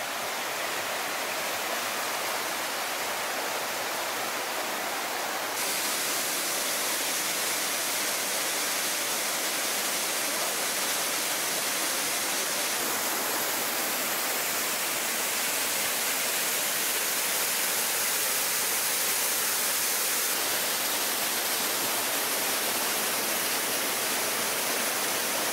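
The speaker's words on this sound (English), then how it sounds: "Awesome waterfall shot, perfect photo op" A waterfall in the Peruvian wilderness roars as a steady, dense rush of falling water. The sound is loud and unbroken for the whole stretch, with no voices over it.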